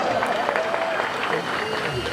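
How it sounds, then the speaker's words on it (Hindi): Applause from a crowd at an election rally rolls on steadily as a dense, continuous wash of claps, with voices and crowd noise mixed in throughout. "मेरा भाभी के लिए जोरदार ताली बजाओ।"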